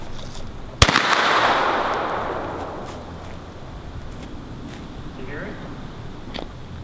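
A single sharp shotgun blast cracks outdoors, followed by a long rumbling decay and quiet background noise, with voices talking around it.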